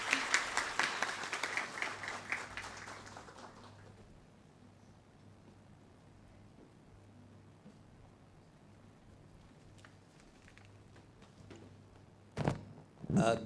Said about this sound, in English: I now request everybody to welcome him with a great round of applause.